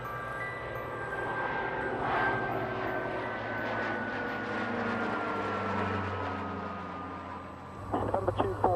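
A steady engine roar and rushing noise, like an Airbus A350 XWB in flight heard from inside, with a faint descending tone and some knocking near the end.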